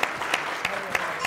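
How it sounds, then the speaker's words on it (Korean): A sparring-match crowd applauds in brief scattered claps, a few sharp hand slaps spaced about every third of a second over a low room murmur. "박수가 나오는데요."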